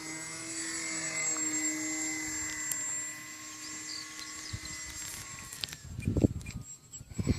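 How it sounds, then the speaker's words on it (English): A small RC model plane motor whines at a high, steady pitch with grinding tones, later giving way to uneven low bursts and knocks toward the end. "You're getting kind of a grinding noise off that motor."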